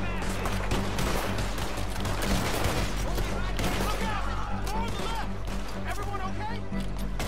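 Rapid volleys of pistol and rifle gunfire in a Red Dead Redemption 2 shootout, loud and dense throughout, with shouting voices mixed into the chaotic firefight.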